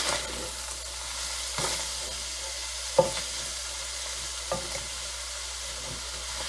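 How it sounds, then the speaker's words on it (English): Wagyu beef and cabbage sizzle steadily in a pan while a utensil stirs through them, with a few sharp scrapes and clacks against the pan, close and fairly quiet. "Now we stir."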